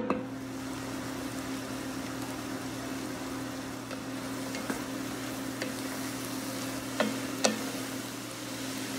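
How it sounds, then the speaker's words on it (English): Vegetables saute in a pan for black bean soup with a soft, steady sizzle over a low constant hum, broken by a few faint clicks and scrapes of stirring. "once you get those in the pan, you're just gonna saute them until they're nice and soft"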